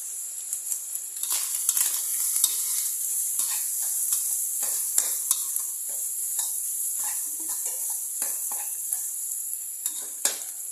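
Minced pork and holy basil stir-frying in a hot pan as soy sauce goes in, a steady close sizzle with scattered scrapes and clicks of a spatula stirring against the pan, no talking.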